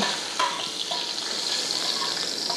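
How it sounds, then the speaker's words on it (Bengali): Two bay leaves frying in hot oil in a pan give a steady, close hissing sizzle with a few light stirring scrapes, with no voice over it. "দিয়ে এগুলোকে ভেজে নেব, হালকা করে ফ্রাই করে নেব।"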